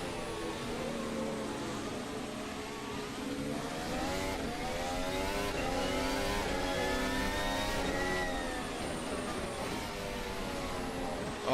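F1 car engine in a daytime Singapore sim racing session, a steady buzzing whine with layered rising and falling harmonics as the revs shift through gear changes, continuous and close for the whole stretch.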